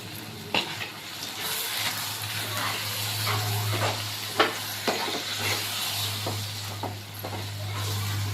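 Ground mustard, fenugreek and asafoetida get stirred into a mango ginger pickle, giving soft scraping and sloshing strokes with a few sharper knocks of the spoon against the vessel, close by over a low steady hum, with no talking.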